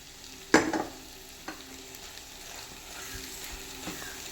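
Beef roast with oil-fried coconut being stirred in a pan, a sharp scrape and sizzle at the start, followed by lighter intermittent stirring clicks over a steady low frying hiss.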